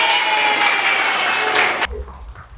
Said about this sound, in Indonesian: Beri aplaus untuk kita.